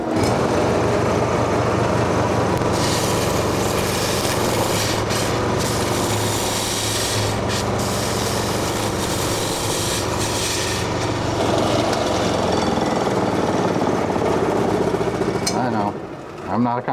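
A circle bit cutter grinds into a live-edge walnut slice with a steady, loud rasping drone that runs nearly unbroken and has brief catches and scrapes along the way. Talk is mixed in faintly, and the cutting drops away near the end.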